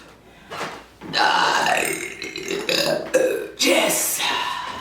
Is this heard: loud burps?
yes